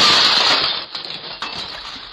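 A glass front door smashed in a video game: a loud bright shatter at the start, then tinkling shards settling and a second crunchy burst of breaking glass.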